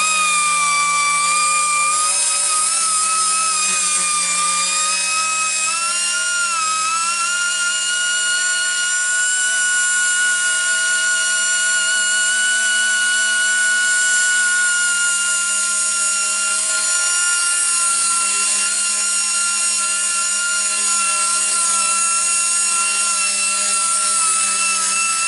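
Fine-grit sandpaper worked over a curbed alloy wheel, a steady abrasive hiss with tonal whine that runs continuously and fairly loud without pause, alone with no talk.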